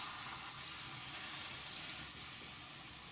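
Chicken fillet frying in hot oil over garlic in a pan, a steady bright sizzle and hiss throughout, fairly close and even in level, with no talking.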